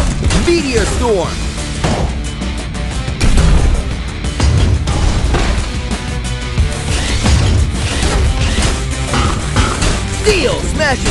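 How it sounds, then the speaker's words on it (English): Steel robots clash in the World Robot Boxing 2 video game, a dense run of repeated metallic smashes and thwacks under a loud game soundtrack, with an excited commentator's voice over the fight. "Steel smashing steel!"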